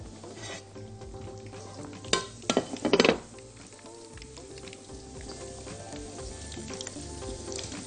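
Onion rings fry in hot oil with a steady close sizzle and bubbling, while a few louder scrapes and clinks of a utensil against the pan break in near the middle.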